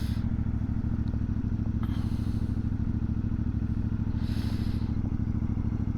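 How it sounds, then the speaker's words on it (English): Stock exhaust of a CFMOTO 450MT adventure motorcycle while riding, a steady low engine drone with a continuous rhythmic pulse, close and fairly even in level, with faint wind hiss over the top. "pipe sounds alright for stock."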